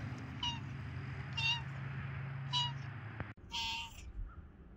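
A cat meows four times at irregular intervals, each a short, clear call, over a low steady hum, with the last meow closer and louder.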